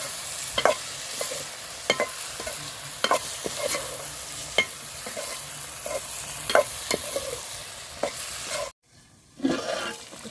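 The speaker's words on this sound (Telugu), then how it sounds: "ఒకసారి కలుపుకుందామండి మధ్యలో." White brinjal (eggplant) fry sizzles steadily in a pan while a spoon stirs it, giving scattered light scraping taps over the constant frying hiss, with one short break near the end.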